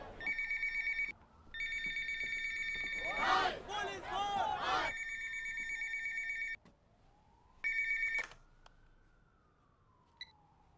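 A telephone rings in steady repeated bursts, loud and close, with a brief stretch of voices and a rising-falling siren-like tone underneath.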